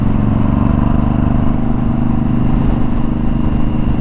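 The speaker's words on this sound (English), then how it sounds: "Cool thing about riding a bike like this on the highway is you don't have to downshift" Suzuki M109R motorcycle engine cruising on a highway at steady speed, a loud, continuous deep drone with a throaty low rumble and constant wind roar, no gear changes, close and alone.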